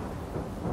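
Thunder following a lightning flash in the survival video game The Forest: a brief, dense, low rumbling roar of steady loudness, with no voices.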